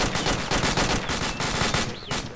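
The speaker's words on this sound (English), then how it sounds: "We're taking sniper fire" Rapid automatic gunfire in the military game Arma 2, a fast run of close, loud shots in an even rhythm lasting the whole stretch with barely a break.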